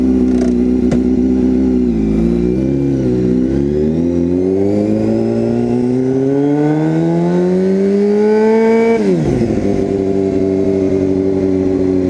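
A motorcycle that has sat unused for a while sputters and labors to life, its engine note rising unevenly and straining upward before dropping back to a rough idle, loud and close throughout.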